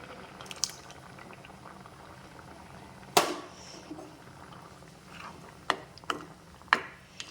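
Soft bubbling of a yogurt-based curry with coconut simmering in a pot, with scattered sharp pops and clicks over a quiet background.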